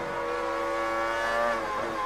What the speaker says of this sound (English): Massa was able to hold line and keep the throttle,